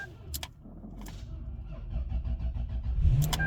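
A Lexus LS430 with 270K miles, hooked to a 40 amp jump charger, cranks with a couple of sharp clicks and then catches, its engine settling into a low idle nearby.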